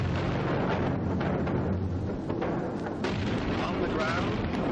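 Wartime artillery fire from Allied guns opening a bombardment sounds as a dense, continuous barrage of heavy booms and rumbling blasts that stay loud and unbroken, with a narrator speaking over it.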